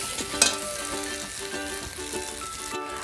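Pasta fries in a pan with a continuous close sizzle, a single sharp clink or scrape near the start and light stirring throughout.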